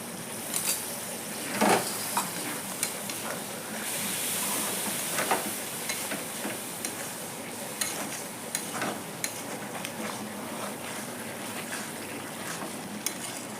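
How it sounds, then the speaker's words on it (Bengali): A prawn curry bubbles and simmers steadily in a pan, a soft continuous sizzle with occasional faint clicks and pops. "চিংড়ি মাছের ঝোলটা ফুটে উঠছে"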